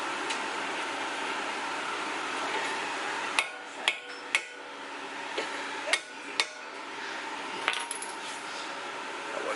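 Several sharp metallic hammer strikes ring out at irregular intervals over a steady background hum, close by and moderately loud, while parts are knocked out during a Ford Fiesta ST air ride installation.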